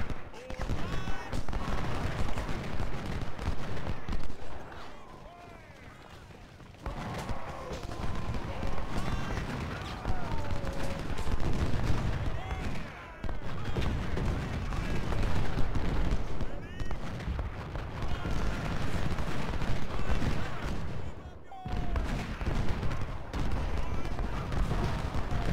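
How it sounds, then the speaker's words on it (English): Civil War artillery in Ultimate General Civil War at the Battle of Gaines' Mill, with repeated loud cannon booms and crackling gunfire in irregular volleys. Short lulls break the firing over a sustained battlefield din. "I'll have all the guns shoot at their gun."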